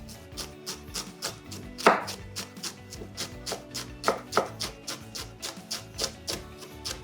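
A knife finely chops a shallot on a board in quick, crisp, evenly spaced taps, close and clear, with a couple of heavier knocks mixed in.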